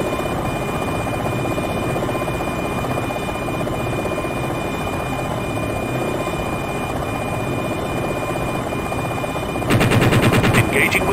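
Cannon fire from an AH-64D Longbow attack helicopter in a combat flight simulator: constant rotor and engine drone, then a rapid, loud burst of automatic gunfire near the end.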